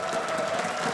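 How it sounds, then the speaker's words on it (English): A crowd at a Counter-Strike esports semifinal claps steadily and continuously, a dense wash of applause with no pauses. "A big round of applause."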